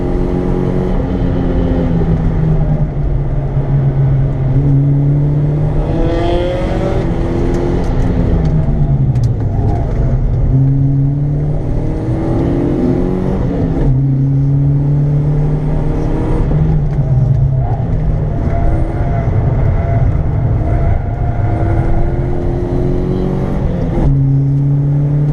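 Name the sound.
powerful car revving on race track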